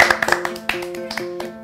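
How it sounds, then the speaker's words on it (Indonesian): Sparse, uneven claps and taps from a small group on a children's school lesson programme come close and crisp over soft tonal background music. "Tepuk tangan sekali lagi buat kita semua"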